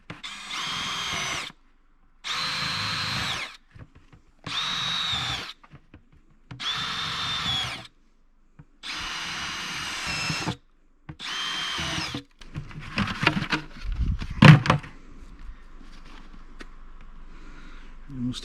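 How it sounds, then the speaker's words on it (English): A power drill whirs in repeated bursts, drilling holes in a bucket lid for maple sap collection, about six on-off runs with short pauses, then scraping and clattering noises near the end. "is to basically just drill a bunch of holes in this lid."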